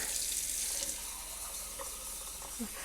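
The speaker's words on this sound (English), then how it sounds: "I let my water run so it's nice and hot." A kitchen tap runs hot water in a steady, close stream into the sink, continuous and unbroken for the whole stretch with no voices.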